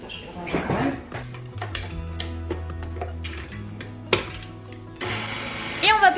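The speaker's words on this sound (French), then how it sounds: "Et maintenant on va faire tourner le robot pour faire la pâte." A stand mixer starts kneading dough for Viennese chocolate-chip baguettes; light kitchen clatter and a low hum come first, then the motor's whirring kicks in loudly near the end.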